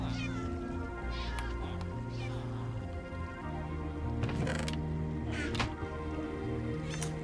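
Cats meowing repeatedly in a Minecraft iron farm, several sharp game meows popping up over a steady droning background with faint mechanical clatter, fairly loud throughout.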